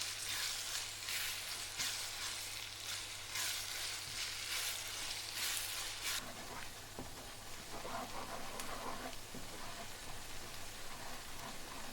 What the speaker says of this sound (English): Add 2 large chopped onions and fry until they turn gloriously golden brown, stirring occasionally